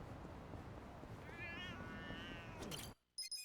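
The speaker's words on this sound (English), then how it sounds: "Little mangy one, this cat." Cat meowing in Yakuza: Like a Dragon, a single drawn-out meow rising and falling over a steady background bed of street ambience, faint and mid-distance, followed by a short silence and small clicks.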